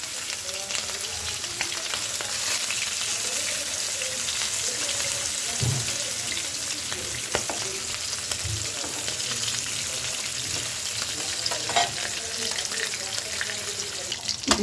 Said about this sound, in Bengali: প্যানে আমি মাছগুলো দিয়ে দেব।